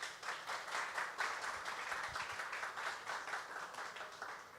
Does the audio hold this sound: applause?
yes